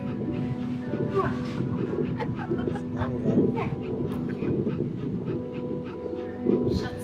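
Young, puppy-like dogs pant and whimper close by in short uneven bursts, with people talking over them throughout.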